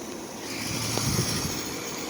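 Two 2014 Lennox Signature heat pumps, 5-ton and 4-ton, running in heat mode outdoors; a loud steady mechanical drone with rattling, continuous and close throughout.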